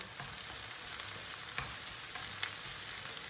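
Peppers sizzle and fry in a pan with onions, a dense, steady crackling hiss broken by occasional sharper pops and stirring noises, close by and without talk.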